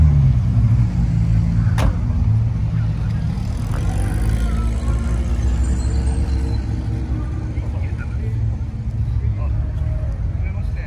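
A Porsche 964 at a Porsche Day gathering rumbles continuously with a deep, steady low drone and faint mechanical overtones, close and loud throughout, while people talk nearby.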